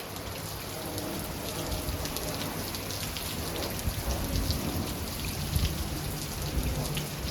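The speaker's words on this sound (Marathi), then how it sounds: "फुल पाऊस चालू झाला इथे" Heavy rain pours down steadily, a dense continuous hiss of drops drumming on surfaces close by, with possible thunder rumbling low underneath and no voices.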